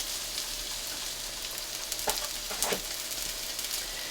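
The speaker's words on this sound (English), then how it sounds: "I just let them cook until I hear the pitch or sound of the potatoes sound like they're increasing and frying" Potatoes sizzle and fry in a pan with seasoning salt, a steady close hiss of crackling oil throughout, with a few brief louder pops and scrapes near the end.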